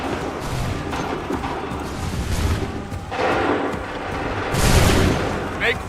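Massed musket volleys in Assassin's Creed III: a low, rumbling din builds into two loud crackling bursts of gunfire, spread out like many rifles firing at almost the same moment.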